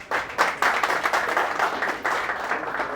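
An audience applauds a senator's entrance at an event, steady close clapping that holds through the clip with a few sharper bursts, no talk over it.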